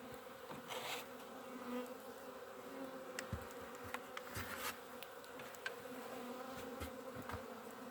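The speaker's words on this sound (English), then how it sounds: "I got bees all over my hair and everything now." Bees buzz close around a beekeeper's head and hair at a winter hive in Wisconsin, a steady faint drone with brief louder passes as individual bees fly near, with light handling knocks underneath.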